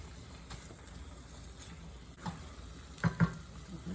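Beef for Indonesian empal manis cooking gently over low heat in a pan, a faint quiet sizzle with a few soft stirring clinks near the end, no talking.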